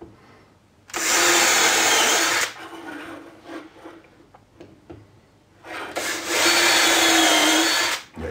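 A power drill driving screws into a wooden shelf for hand planes: two loud, close bursts of high whirring, each lasting about one and a half to two seconds, separated by quieter handling noises.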